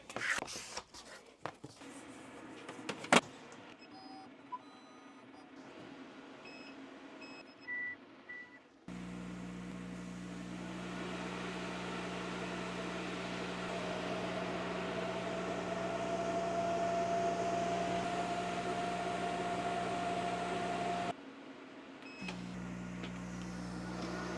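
A Thunder Laser Bolt laser cutter cutting pieces gives a few beeps and clicks at startup, then a steady mechanical hum with fan and exhaust drone and a faint whine that runs for about twelve seconds before stopping abruptly, with no talking.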